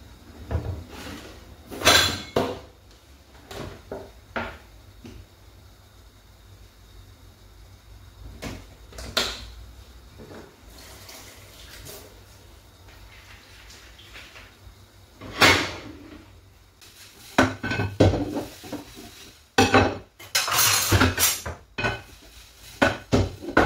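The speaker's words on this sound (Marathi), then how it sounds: "आता भांडे घासून घेते मी." Dishes, pots and pans are scrubbed and washed at a kitchen sink, with scattered clanks, clatters and scraping knocks of varying loudness, some sharp bursts close by.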